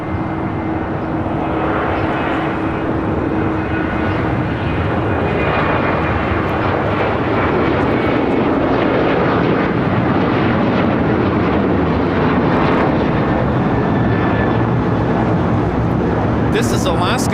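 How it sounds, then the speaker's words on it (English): An Alaska Airlines Boeing 737-900ER takes off at LAX, its jet engines a loud, continuous roar that swells slightly and stays sustained throughout. "This is Alaska Airlines 1406 taking off to Manzanillo on a 737-900ER."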